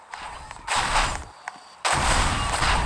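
Pistol gunfire in the Roblox game Livetopia, two bursts of loud, sharp game shots separated by a short pause, with a faint click between them.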